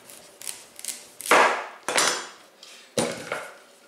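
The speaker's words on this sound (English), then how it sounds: "cut off the stem end." A sharp knife slices the stem end off a butternut squash, giving a series of crisp, close knocks and cuts against a board. The few sharp impacts come irregularly, with quieter taps between them.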